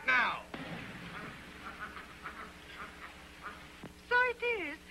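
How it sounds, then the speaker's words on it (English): A duck quacks in an early 1930s film, with a nasal burst at the start and two more near the end, separated by quieter background sound. "Here's the duck now."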